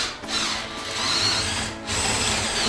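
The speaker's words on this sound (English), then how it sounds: "And then I drill a hole into the attic." A power drill whirs continuously up close while boring a hole up into an attic, its motor pitch wavering slightly as the bit bites through the material.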